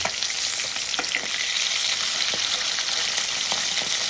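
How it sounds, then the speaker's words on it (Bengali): Pieces of kali baus fish fry in hot oil, giving a steady, close crackling sizzle with scattered sharper pops throughout and no talking. "আমি মাছগুলো লাল লাল করে ভেজে তুলে নেব"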